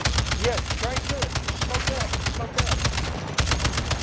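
Rapid automatic gunfire aimed at a skull-marked boss enemy in Warzone DMZ, dense bursts rattling continuously near and loud with a brief pause midway, under an engine hum while voices talk over it.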